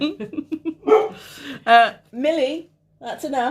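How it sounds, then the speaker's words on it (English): A dog yips and barks a few times close by, short sharp bursts mixed in with a person speaking over it. "sorry about the dog."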